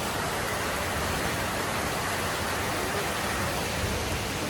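A heavy downpour pours down outside a house, a dense, unbroken roar of rain at steady loudness with no voices.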